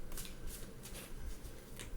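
A tarot deck is shuffled quickly in the hands, producing soft, repeated riffling bursts at an even rhythm, close and fairly quiet, with no talking.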